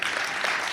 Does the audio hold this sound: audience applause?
yes